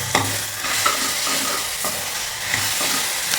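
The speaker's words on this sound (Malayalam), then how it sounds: "അടുത്തായിട്ട് ഇതിലേക്ക് 1 ടീസ്പൂൺ ഇഞ്ചി വെളുത്തുള്ളി പേസ്റ്റ് ഇട്ട് കൊടുക്കാം. അതൊന്ന് വഴഞ്ഞിരിക്കണം." Ginger garlic paste sautés in a pan for an easy pressure-cooker egg curry, giving a steady, close sizzle with a few soft stirring scrapes and no voices.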